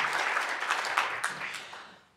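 Applause from an audience at a formal event at the Senate, a broad wash of clapping heard alone that fades away over about two seconds.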